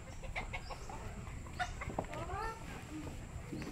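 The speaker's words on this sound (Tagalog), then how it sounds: "Yan naman, ang ganda, ang daming manok." Many chickens cluck and call in a rural spot in San Luis, several short clucks heard at a moderate distance over steady background noise, with people talking nearby.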